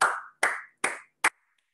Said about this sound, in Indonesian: Boleh beri tepuk tangan bagi Tuhan kita.